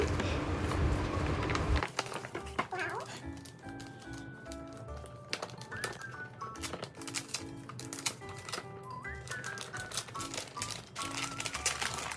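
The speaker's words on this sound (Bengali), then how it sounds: "তো চলুন আপনাদের সাথে নিয়ে আমি আমার গিফটটি আনপ্যাক করি" A gift package being unpacked up close, with soft crinkling, paper rustles and light tapping handling sounds, fairly quiet and irregular after a louder opening moment.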